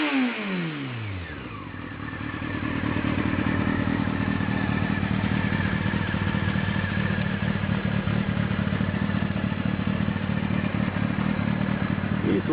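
A Honda motorcycle engine catches with a brief falling whine, then settles into a loud, steady, close-up rev and idle that holds without pause for the rest of the stretch, with no talking.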